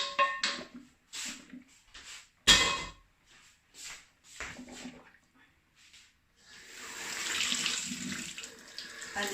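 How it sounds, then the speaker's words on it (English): Water runs from a kitchen tap while pork is drained and rinsed, with clanks and knocks of pots and utensils early on, then a steady splashing flow at the end. "I need to drain it and rinse it as well"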